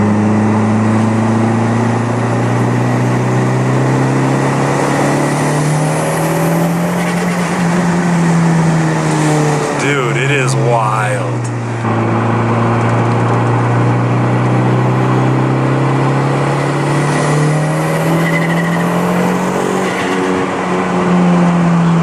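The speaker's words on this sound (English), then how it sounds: "So the blow-off valve was letting some of the air out" Turbocharged car pulling hard under boost, its engine drone rising steadily and loud throughout, with a brief quick chirp of the blow-off valve as the throttle eases partway, then the engine building again.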